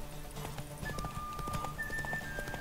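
Horse hooves clip-clop steadily in The Witcher 3 video game, a rhythmic trot or gallop over game music with faint tonal whistles.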